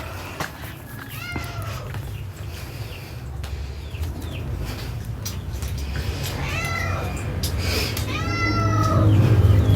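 A cat meows several times in short, rising calls over a steady low background hum, growing a bit louder toward the end.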